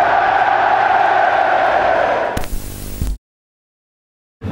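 A football crowd on the pitch celebrating, a dense, loud roar of voices and cheering for a couple of seconds, then a rougher burst before it cuts abruptly to silence.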